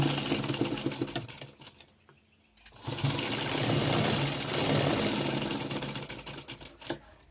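Sewing machine stitching a blouse seam in rapid mechanical bursts, running, pausing briefly in silence, then running again loudly, with a few clicks at the end.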